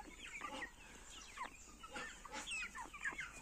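A crested rooster clucks in a farmyard with turkeys about, giving a string of short, faint calls that repeat in quick succession.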